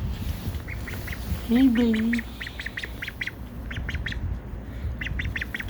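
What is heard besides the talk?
four-week-old pet duckling quacking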